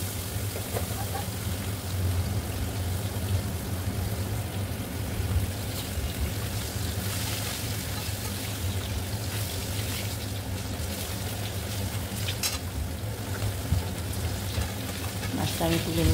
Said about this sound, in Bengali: একটা একটা করে মাছ ছেড়ে দিচ্ছি।